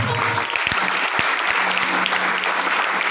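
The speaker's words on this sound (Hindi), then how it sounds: "जोरदार ताली बजाओ" A congregation at a church gathering claps loudly and continuously, with a few sharp individual claps standing out over the dense, sustained applause.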